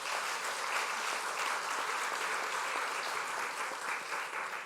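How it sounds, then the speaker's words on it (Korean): A church audience claps for the children who sang, producing dense, even applause that carries steadily for several seconds with no talk. "아이들 한번 박수 한번 해주시죠"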